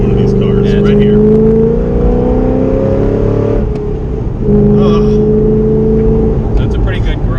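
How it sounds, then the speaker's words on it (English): Carbon fiber widebody C6 Corvette with an LS V8 and Corsa exhaust, idling and revving in a deep, steady growl that dips briefly and then swells again, close and loud, with people talking over it. "It's the nastiest sound you can get in one of these cars"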